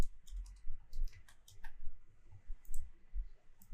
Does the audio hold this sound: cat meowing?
no